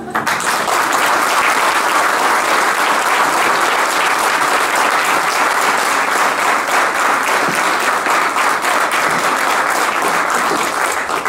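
Sustained, dense applause from an audience fills the room at a restaurant award ceremony, steady and loud throughout with no pauses.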